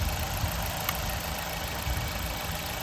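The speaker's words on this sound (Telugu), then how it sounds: "ఇంజన్ బీటింగ్ కూడా చాలా సైలెంట్గా ఉంది." A 2016 Maruti Swift Dzire ZXi petrol engine idles smoothly and quietly, a low, even hum that holds steady for a few seconds with no other sounds.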